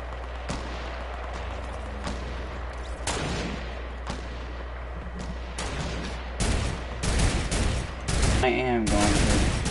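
Fortnite gunfire crackles in a dense, loud stream of rapid shots and bursts, with heavier volleys toward the end, layered over constant game noise.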